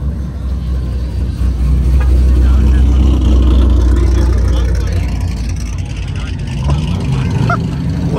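A G8 car's engine rumbles deep and steady at a busy car meet, holding a loud low drone while several people talk nearby.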